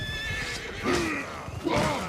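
Two loud horse whinnies ring out close by in a Warhammer mod of a video game, one after another, with faint hoofbeats underneath.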